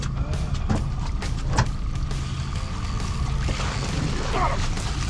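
Outboard engine on a fishing boat at sea during late-fall king salmon fishing, a steady low motor drone with water and wind noise throughout, no talk.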